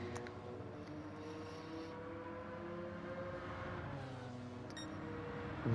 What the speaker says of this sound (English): It's a lovely engine in this Stratos.